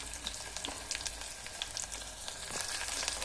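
Garlic sizzling in hot oil in a pan, a soft, steady crackle with small pops scattered through it, fairly quiet and close, with no voices.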